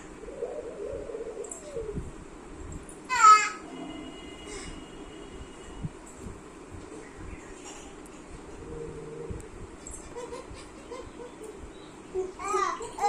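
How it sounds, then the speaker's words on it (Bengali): A cat meows a few times, brief high wavering calls heard over a child babbling and an adult talking gently in a home setting. "ওই দে মিউ মিউ"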